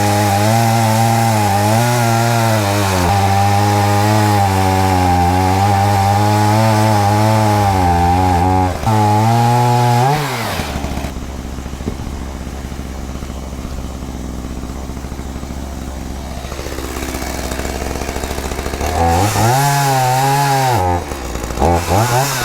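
A chainsaw cuts a firewood log, running loud and close with steady high revving, dropping to a low idle midway, then revving hard again near the end, with no talk.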